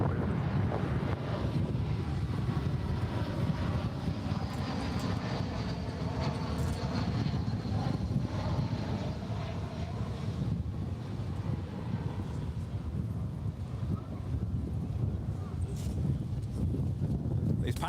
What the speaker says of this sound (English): Boy, oh, that wind.